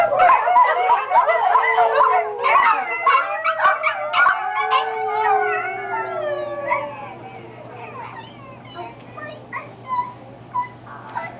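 Several children howl, yip and bark in imitation of dogs, a loud overlapping chorus that gradually thins into scattered yelps.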